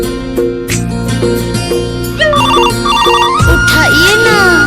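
A mobile phone ringtone plays loudly and up close, a repeating melodic electronic tune that keeps ringing steadily for several seconds with no voice over it.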